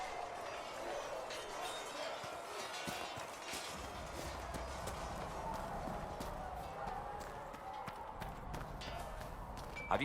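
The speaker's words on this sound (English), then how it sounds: "Have you seen the horses Master Dennett sent the Inquisition?" Steady clip-clop of horse hooves trotting along in the video game Dragon Age: Inquisition, continuous and moderately close, with faint background ambience throughout.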